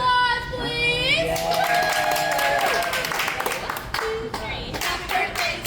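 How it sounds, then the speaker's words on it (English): A small group of friends claps for a birthday, starting with tonal voices and then breaking into sharp, uneven hand claps that grow sparser toward the end. The sound is close, with bits of talk mixed in. "But if you round of applause,"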